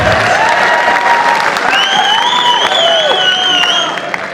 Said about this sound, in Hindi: एक बार जोरदार ताली बजाओ यार